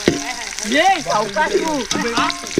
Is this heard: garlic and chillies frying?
yes